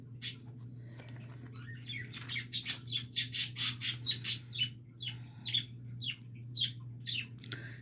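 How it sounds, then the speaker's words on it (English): Pet birds squawking and chirping indoors, a burst of rapid, fairly loud calls in uneven clusters over a steady low hum. "Well, the birds are excited."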